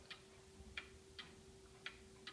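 Antique Black Forest cuckoo and quail clock ticking quietly and alone, a run of crisp, evenly spaced ticks at close range.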